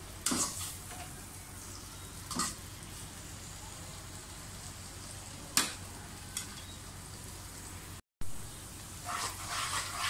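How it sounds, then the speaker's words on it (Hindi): Onions fry in a pan for chicken korma, a soft steady sizzle with a few sharp louder crackles and stirring clatters standing out, heard alone without talk. "अच्छी तरह से गोल्डन ब्राउन कर लें प्याज को।"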